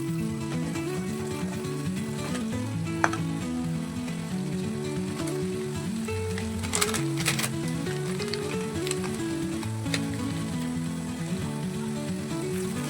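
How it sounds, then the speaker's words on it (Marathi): Masala with ginger-garlic paste roasts in oil for a spicy fish curry, giving a steady, dense sizzle like light rain that goes on throughout, with a few brief clinks and no voices. "हा मसाला चांगला तेल सुटेपर्यंत भाजून घ्यायचा आहे।"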